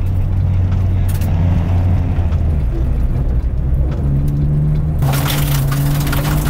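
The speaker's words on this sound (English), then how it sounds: "I'll brake a little bit coming in, turn, and then pull the handbrake, let it rotate around" Car engine drone while braking into a handbrake turn, a steady low hum with shifting pitch and a sudden burst of broadband scraping noise near the end as the car slides.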